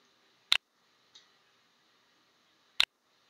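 Two sharp, isolated clicks about two seconds apart from a computer mouse used during an elementary-school Entry coding lesson, with a fainter tick between them and no talking.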